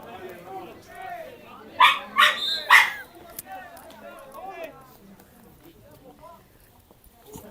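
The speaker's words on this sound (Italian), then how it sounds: "C'è il cane che paia." A dog barks near a youth under-17 football match, with three sharp, loud barks in quick succession, then softer yips and whimpers while people talk nearby.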